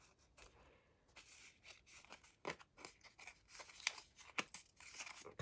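Scissors snipping through leftover plastic packaging for a junk journal, with a string of irregular crisp cuts and crinkles up close and no talking.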